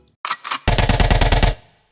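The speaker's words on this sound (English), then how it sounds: "today I'm going to show you how I made this machine gun in Serum." A realistic machine gun synthesized in Serum: a couple of single shots, then a rapid, loud burst of about a dozen punchy rounds in even rhythm, followed by a brief fading tail.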